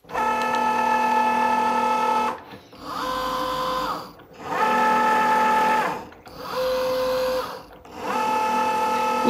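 A Cricut Joy Xtra cutting machine cuts out a large rectangle, its motor whirring in several steady bursts with short pauses between passes, fairly close and clear.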